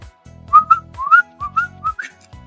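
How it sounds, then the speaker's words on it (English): A person whistles a short melodic tune, several bright rising and falling notes in quick succession, clear and close, with low rhythmic background music underneath. "we also use our tongue when we whistle."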